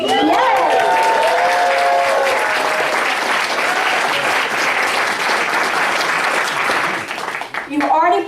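A conference audience claps in loud, sustained applause, a dense wash of many hands that fades near the end, with a voice cheering over the opening moments and speech returning as it dies down.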